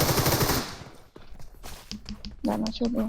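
Gunfire in the mobile battle game PUBG Mobile, a loud burst of rapid shots at first, then scattered softer shots and movement under excited talk.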